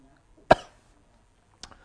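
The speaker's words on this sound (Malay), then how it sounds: "batuk ni tak habis lagi ke?" A man gives one sharp, close cough, followed about a second later by a second, softer cough.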